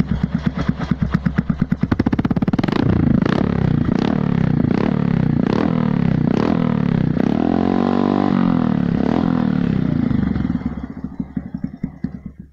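A custom Byson scrambler motorcycle engine runs loud and close, revving up and down in throbbing pulses before dropping back to an uneven idle.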